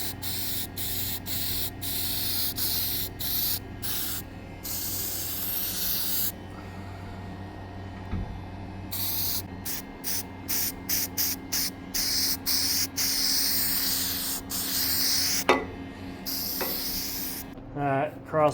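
Aerosol spray paint laid on as a second coat over a car part, in repeated hissing bursts separated by short pauses, close and steady, with faint rattling and handling noises between passes.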